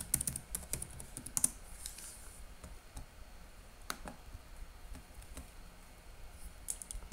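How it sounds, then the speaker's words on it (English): Computer keyboard keys clatter as a password is typed during a Windows and Ubuntu dual-boot setup, a quick run of light clicks and taps with short pauses and a louder keystroke near the end, no talking. "Then hit enter, punch in your password."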